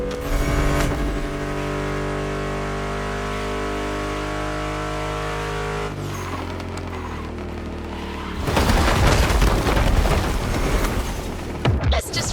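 A Mustang GT muscle car in The Crew Motorfest racing game roars loud and close, a deep sustained engine drone that shifts pitch, then a burst of harsher revving toward the end.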